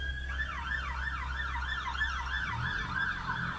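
Emergency vehicle siren wailing outside in a steady rising-and-falling cycle, moderately distant over a low background rumble, with no talking.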